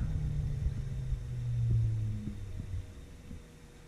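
A Boss 302 F100 electric cooling fan, just shut off, winds down with a low rumbling hum that rises briefly and then fades as the blades slow, nearby and with no talk.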